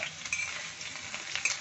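Cubed potatoes frying in oil in a wok, a close, even crackling sizzle with a couple of faint metallic clinks over a short stretch.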